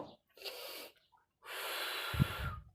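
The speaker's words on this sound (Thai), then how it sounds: "หายใจเข้า" Breath sounds during a biceps curl workout: a short airy inhale, a pause, then a longer breathy exhale with a brief snort-like puff, close to the microphone and with no talk.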